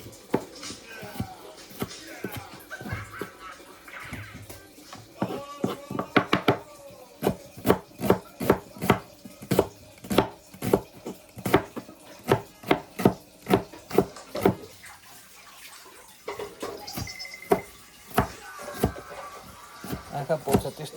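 Onions being chopped with a knife on a board, a long run of sharp, evenly paced knocks up close, with a short pause midway before the steady cutting resumes.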